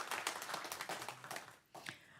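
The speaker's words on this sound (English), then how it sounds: "Let's give her a round of applause for the great job that she does." A room of attendees at a city council meeting gives a short round of applause, rapid, fairly faint claps fading out after a couple of seconds.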